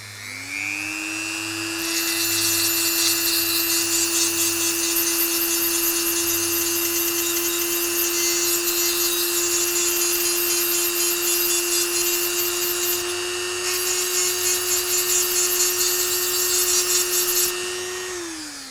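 A high-pitched Dremel 300 Series rotary multi-tool spins up and whines steadily, with a gritty scratching layer as it sands a shell, then winds down at the end.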